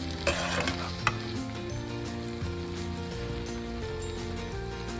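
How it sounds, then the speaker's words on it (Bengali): Cooked rice with ghee being stirred in a pan, heard as a soft continuous sizzle with light scraping and a couple of sharper utensil knocks, close and fairly quiet, without speech. "ভালো করে নাড়াচাড়া করলাম, চাল সেদ্ধ একদম হয়ে গেছে।"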